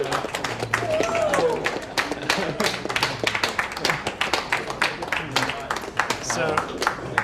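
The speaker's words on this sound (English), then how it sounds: "Give some claps." An audience claps in a broad, sustained round of applause inside a bomb shelter, with voices mixed in underneath.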